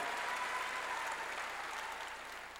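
A congregation at a church service claps together in steady, dense applause that stays loud and even throughout, with no voices on top.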